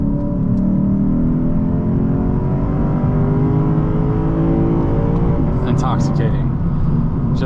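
A 2023 Lexus IS500 Limited Spec V8 pulls hard and loud under acceleration on an open road, its engine note climbing steadily through the revs with a continuous deep rumble and rising harmonics, heard from inside the cabin.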